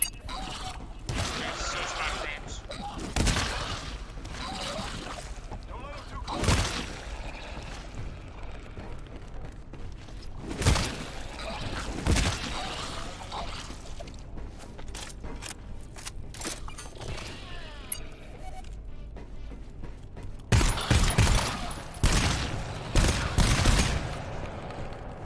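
Shotgun blasts go off in the co-op shooter game GTFO, with several heavy bursts spread through a tense stretch of quieter shuffling and mechanical game noise, and a tight cluster of shots near the end.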